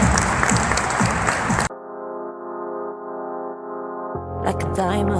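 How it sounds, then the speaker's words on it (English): A large crowd at the Harvey Milk Diversity Breakfast in Coachella Valley applauds Monica with dense clapping. The clapping stops abruptly after under two seconds and gives way to a sustained droning tone, then music. "Another big round of applause for Monica."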